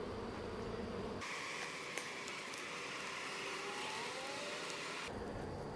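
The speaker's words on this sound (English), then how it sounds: "See, there's fewer bees up here now." Honey bees buzz densely nearby at an opened hive, a constant high drone that grows fuller and louder midway before easing back, with no talking.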